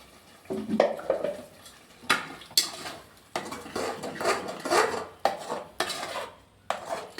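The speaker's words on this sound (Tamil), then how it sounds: "எண்ணெய் நல்லா சூடானோன்னு இதில் போட்டுடணும். போட்டுட்டு இதில் நல்லா வதக்கணும்" Metal utensil scrapes and clinks against a pan in irregular bursts while stirring onion, tomato, ginger and garlic paste in hot oil, with a faint sizzle underneath and short quiet gaps.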